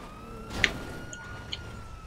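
A police siren in the video game GTA 5 Online wails faintly and steadily in the background, with a couple of brief sharper game effects over it and no talking.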